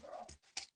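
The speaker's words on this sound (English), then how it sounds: "Sorry, my dog's barking upstairs." A dog barks upstairs, two short muffled yelps heard indoors at a distance, faint and brief.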